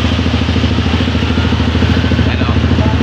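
A motorcycle engine idles close by, a steady low throbbing with a rapid, even mechanical pulse that stays loud and unbroken throughout.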